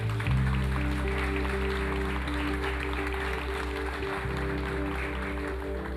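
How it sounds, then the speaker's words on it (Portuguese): Applause from a church congregation during a Pentecost service, a continuous wash of clapping layered over sustained low organ or keyboard tones and background hum. "Vamos dar uma salva de palmas para Jesus"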